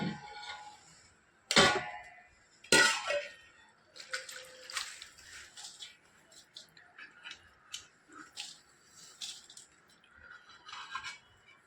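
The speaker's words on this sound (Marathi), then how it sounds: "त्यामध्ये आपण हा तयार केलेला जो खार आहे तो आपण यात टाकून घेऊ." Prepared brine poured over cleaned raw mango pieces in a tray for homemade sweet-sour mango pickle, heard as two sharp splashing pours followed by lighter intermittent trickles and drips, close and moderately loud.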